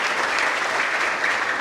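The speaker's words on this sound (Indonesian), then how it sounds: "Kita tepuk tangan untuk kemuliaan Tuhan" A church congregation at a centenary anniversary service claps together in a steady, full burst of applause heard throughout, with no talking over it.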